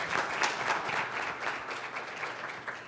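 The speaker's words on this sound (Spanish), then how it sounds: "Muchas gracias a Carlos, le damos un aplauso también, por favor." Audience applause at a panel session on public policy and cooking, steady clapping from a room of people sustained for about three seconds.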